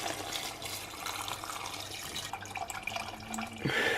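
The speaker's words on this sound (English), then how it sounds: "so I'll add all the meat back in and then cover it up with water" Water poured from a tap or jug into a saucepan over browned meat, onion and garlic, a steady close trickle and splash that rises in pitch near the end as the pan fills.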